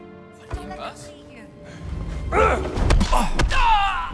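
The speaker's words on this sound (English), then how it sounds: "I'm trying to throw the gun on the table." A pistol thrown onto a table in Indiana Jones and the Great Circle gives a single dull thump early on, followed by game noises, with someone talking over it.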